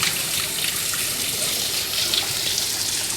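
Water pours steadily from a hose or container while plants are watered outdoors on Siargao, a soft continuous gushing splash heard alone at moderate distance.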